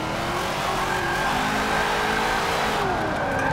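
A car in Forza 7 fitted with a huge wing and drag tyres revs its engine in a steady, loud drone that rises and falls slightly, with tyre squeal mixed in and no talking.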